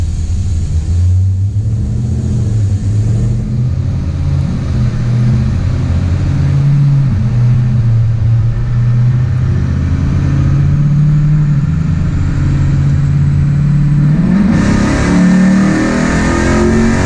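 A cammed 6.1 Hemi engine runs loud and close in drive on a dyno, its lumpy idle climbing and settling through gentle revs, with a sharper rise near the end.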